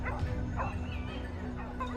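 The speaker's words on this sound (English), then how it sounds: "The hunting dogs pressured a target, their barking relentless" Hunting dogs bark relentlessly as they press a wild boar in a hillside forest, a steady run of close, loud yips and bow-wows with a whimpering edge and no pauses.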